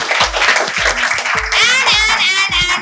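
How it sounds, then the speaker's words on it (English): Clapping from an audience at a children's felicitation ceremony, a steady patter of hands mixed with laughter and excited voices over a low rhythmic thump, close and fairly loud throughout. "Clap for Tripti, guys"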